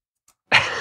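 A single short cough bursts out abruptly after a near-silent moment, close and fairly loud, with no other sound around it.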